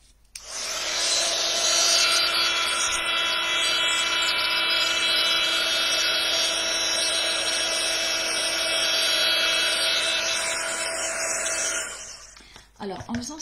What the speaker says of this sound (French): Je vais prendre le pistolet chauffant pour faire sécher parce que ma carte est bien mouillée.